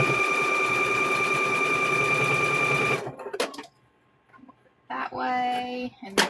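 A sewing machine stitching quilt squares runs in a steady, fast buzzing whir for about three seconds, then stops; short clicks and rustles follow before a brief burst of stitching resumes.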